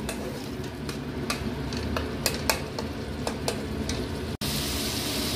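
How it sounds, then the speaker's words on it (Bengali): A masala with Kashmiri chilli powder sizzles steadily in hot oil as a spoon scrapes and taps the pan in irregular stirring strokes, close and continuous with no voices. "মশলাটাকে ভালো করে কষিয়ে নেব"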